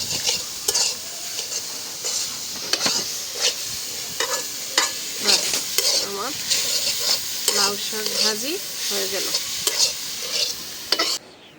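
Bottle gourd leaves sizzle steadily in a hot pan with onion, chilli and garlic, with repeated stirring and scraping of a spatula against metal, close and loud.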